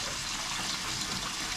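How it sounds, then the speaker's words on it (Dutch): Ice-cold water runs from a tap into a kitchen sink basin, a steady, dense hiss and splash that stays even and fairly loud throughout, with no talking. "Ik heb dus in mijn spoelbak, ja, ijskoud water gedaan in plaats van heet water."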